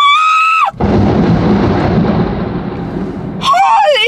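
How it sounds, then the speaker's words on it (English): A loud, close crack of thunder from a nearby lightning strike during rain breaks in as a sustained rumbling roar lasting several seconds, bracketed by a startled high-pitched voice before and after. "That lightning definitely just struck something a while ago."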